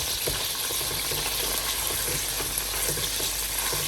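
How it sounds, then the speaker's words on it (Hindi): Cumin, garlic paste and ginger paste fry for beef paya (trotters), giving a steady close sizzle broken by soft scraping stirs throughout. "इसको अच्छे से मिक्स करेंगे, अच्छे से फ्राई करेंगे"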